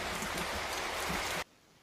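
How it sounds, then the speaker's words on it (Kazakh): Steady broadband rain falling hard and close, a dense continuous hiss that cuts off abruptly near the end, leaving near silence. "Жарқырап тұрған күннің көзі де жабылып, қайтадан жаңбыр жауа бастайды."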